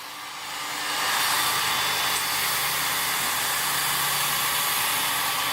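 Work Sharp Ken Onion knife sharpener with grinder attachment sharpening an axe freehand, a steady close whirring belt hum with a hissing grind that rises in the first second and then holds level.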